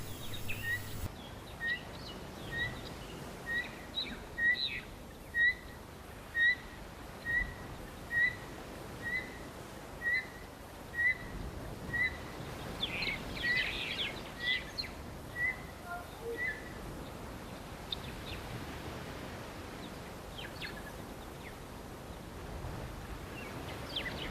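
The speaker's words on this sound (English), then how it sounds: "I just want to let you guys listen to these bird sounds that are out there" Wild birds at a waterhole repeat a clear two-note whistled call about a dozen times at a steady pace, moderately distant, over faint wind and rustle.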